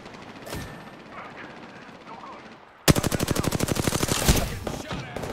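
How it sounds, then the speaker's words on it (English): Video-game gunfire erupts suddenly after a quieter stretch, a loud rapid machine-gun burst of evenly spaced shots hammering on for several seconds, as if striking the player up close. "I'm getting shot!"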